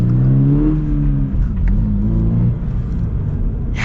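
A 2023 Subaru car accelerates hard, its engine note climbing loud and close, easing briefly, then rising again through a gear change.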